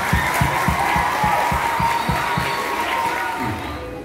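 A school audience gives a strong round of applause honoring the 11th grade, with dense clapping and crowd noise throughout and a steady beat of low thumps that eases off near the end.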